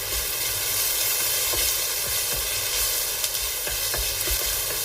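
Onions and curry leaves with salt fry in a pan with a constant dense sizzle, while soft low thumps of stirring recur under the hiss.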